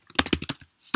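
Typing on a computer keyboard while entering Terminal commands in OS X: a quick burst of about seven close, crisp key clicks, a brief pause, then one more keystroke.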